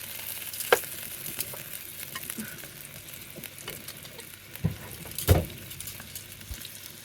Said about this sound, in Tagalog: let's fry the carrots and potato